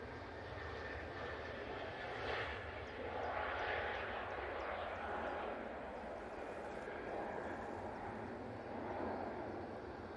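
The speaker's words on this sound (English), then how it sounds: "And Ryanair is going to come past us" A Ryanair airliner passes at Manchester Airport, a steady broad jet roar that swells and holds for about ten seconds, fairly distant and continuous, with no one talking over it.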